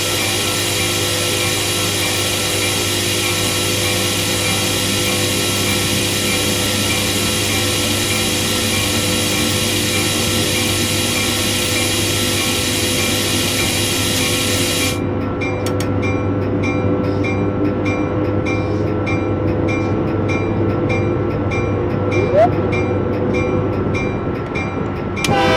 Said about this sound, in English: Another train's pulling out in front of us